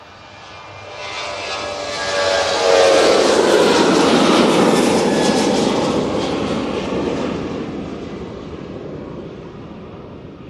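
A Ryanair jet rolls for takeoff at Manchester Airport, bound for Dublin; the engine roar swells from moderate to loud, peaks in a sustained whine-laced rush, then eases slightly as it climbs away, with no voices.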